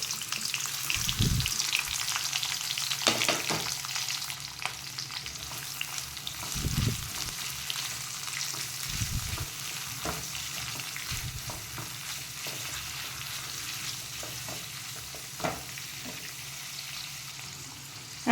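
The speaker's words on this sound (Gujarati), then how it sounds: "તો હવે તેલ થઈ ગયું છે, તો આ કોબીજ અને કેપ્સિકમને એડ કરી દઈશ." Chopped cabbage and capsicum sizzling in hot oil, a steady frying hiss lasting throughout with occasional stirring knocks and scrapes, no talking.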